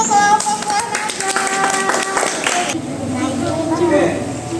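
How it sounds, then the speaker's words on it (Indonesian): A classroom group of children claps for a student group, a burst of quick, dense, ragged hand claps that fades after a few seconds into chatter and voices. "berikan tepuk tangan untuk kelompok buah naga"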